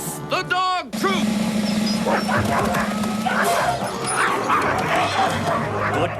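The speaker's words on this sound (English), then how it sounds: "Release the dog troop!" In an animated Robin Hood adventure, a troop of dogs bursts out barking and yipping together in a busy, overlapping chorus, mixed with voices and background noise.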